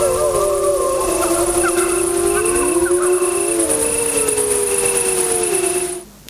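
Wolves howl in a Spanish forest setting, several long sustained gliding tones overlapping in chorus, loud and continuous, with a steady high whine above them, then cutting off at the end.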